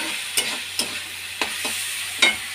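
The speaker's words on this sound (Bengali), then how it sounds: "এটা দেখো ভাজা হচ্ছে।" Diced potato fries in a pan with a continuous close sizzle, broken by about five sharp scraping strokes as the food is stirred.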